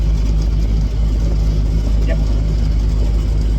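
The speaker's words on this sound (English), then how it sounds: "I'm at the combine. It's running. It's warmed up" A warmed-up combine harvester engine runs steadily at close range, a loud continuous low drone with a faint mid-pitched hum, while a voice briefly speaks over it.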